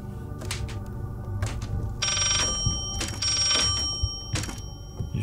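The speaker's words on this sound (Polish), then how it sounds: "Gdzie ten telefon dzwoni?" A telephone rings in the horror game Layers of Fear, two clear bell trills a beat apart set against dark ambient rumble and scattered thuds, with no speech.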